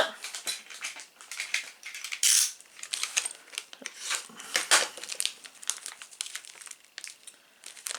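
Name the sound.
unpacking model kit parts from a plastic bag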